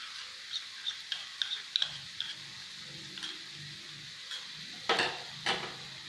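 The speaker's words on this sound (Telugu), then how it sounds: "బాగా ఆనియన్స్ వచ్చి బ్రౌన్ కలర్లో వచ్చేంత వరకు మీరు ఫ్రై చేసుకోండి" Onions frying in a pan with a spoon of ginger garlic paste while cooking prawn and mango curry give a faint, steady sizzle with scattered light clicks and stirring scrapes, quiet and close, no voices.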